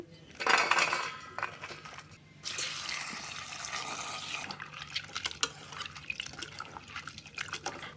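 Fruit petals are rinsed in water while making a rural Bengali broken-rice dish, with splashing and dripping, a brief clatter of a pot or utensil, then steady running and sloshing water close by.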